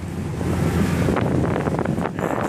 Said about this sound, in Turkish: Dalgalar hafif.